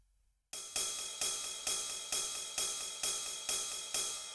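A punchy, low-tuned drum machine kick hits steadily about every half second after a short silence, each thump decaying quickly, with nothing else playing.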